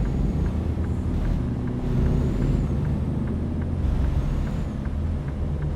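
Truck stopped in stop-and-go traffic, heard from a vehicle as a low rumbling engine under repeated soft hissing bursts of air brakes at regular intervals.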